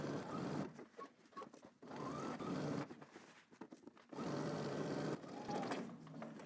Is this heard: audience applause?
no